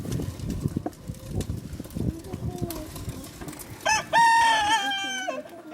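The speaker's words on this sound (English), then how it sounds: "All right, rooster." Near the end, a rooster gives one loud, close crow after scattered clucking and rustling under a coop, preceded by a person talking quietly.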